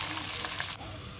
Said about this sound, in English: once they start to sizzle, I'm going to add 2 chopped up onions